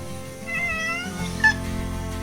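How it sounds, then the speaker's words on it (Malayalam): Several cats meow with drawn-out, wavering calls while waiting for food beside a German Shepherd at feeding time, close and fairly loud, with one sharper meow near the end over low background noise. "ആ പൂച്ചകളൊക്കെ വെയിറ്റിംഗ് ആണ് കേട്ടോ ഫുഡ് കിട്ടാൻ വേണ്ടിട്ട്."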